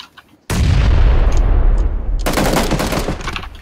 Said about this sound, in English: Someone's throwing nades in here.